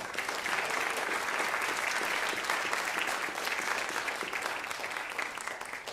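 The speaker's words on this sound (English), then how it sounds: "So give Nizi a round of applause." A concert audience applauds after a student pianist performing piano and electronics is introduced, dense sustained clapping that is steady and fairly distant, fading slightly at the end.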